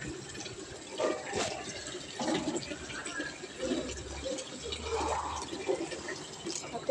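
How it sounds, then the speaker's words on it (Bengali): Tap water runs steadily into a bucket in the evening, a soft, continuous splashing and gurgling heard close by at a low level. "এত জল পড়ছে, এত জল পড়ছে,"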